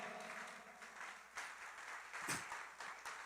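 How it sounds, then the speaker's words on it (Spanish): A church congregation applauds during a sermon, the clapping soft and somewhat distant, rising and falling with a few sharper bursts over a few seconds. "Denle un fuerte aplauso al Señor."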